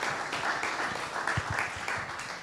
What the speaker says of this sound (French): Donc, pour applaudir.